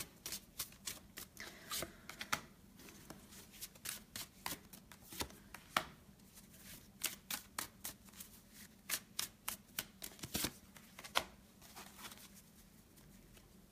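Tarot cards shuffled by hand in a quiet room, a close, steady run of crisp riffling flutters and soft slaps repeating in quick bursts, with no voices.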